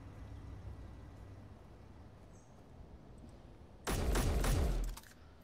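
A single short burst of weapon fire in the survival game Space Engineers, a loud, rapid volley lasting about a second that cuts through quiet background ambience.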